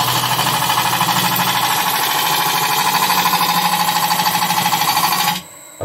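Wood gouge taking a pull or shear cut on an olive ash bowl spinning on a lathe, heard as a loud, steady, dense scraping whir with a low motor hum that runs continuously and cuts off abruptly near the end.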